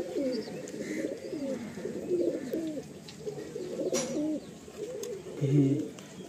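Pigeons coo repeatedly in low, throaty rolls at a pigeon sale in Kolkata, West Bengal, with several birds overlapping at close range against a quiet background.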